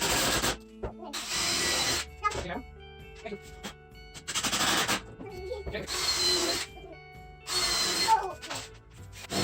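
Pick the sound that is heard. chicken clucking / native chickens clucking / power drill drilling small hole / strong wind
power drill drilling small hole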